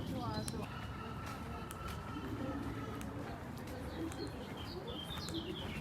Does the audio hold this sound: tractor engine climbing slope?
no